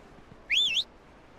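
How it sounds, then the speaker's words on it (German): A short whistle sweeps up and down in the farm video game Ranch Simulator, one clear melodic call lasting about a third of a second over a quiet background. "Wie machst du denn das jetzt, das Pfeifen?"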